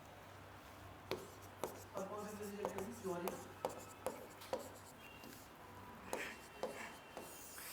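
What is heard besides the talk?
writing on a board during a lecture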